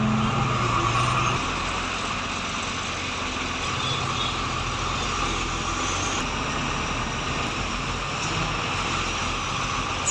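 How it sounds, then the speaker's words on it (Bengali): Steady roadside traffic noise from cars and trucks stuck in a jam on a road near Rasulpur, Bardhaman, with a constant engine rumble and broadband hiss, fairly loud and unbroken throughout. "রাস্তায় এখন জ্যামে আটকে আছি।"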